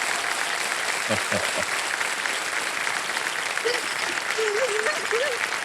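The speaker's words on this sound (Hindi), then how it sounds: "तालियां बज जाए सुमित जी के लिए" A studio audience on a television quiz show applauds a contestant, a steady, dense wash of clapping throughout, with a brief voice breaking through near the start and more murmuring toward the end.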